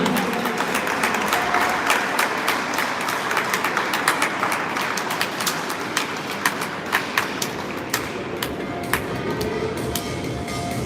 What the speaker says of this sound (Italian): l'applauso da parte di tutta Pescantina